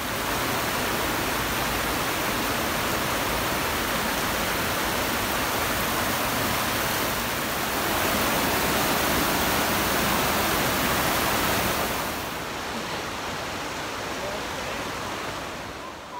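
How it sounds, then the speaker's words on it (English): Icy waterfall roar while wading through the falls, a loud, steady broadband rush of falling water filling the whole stretch, easing slightly toward the end. "Beautiful though, we're actually wading through the falls."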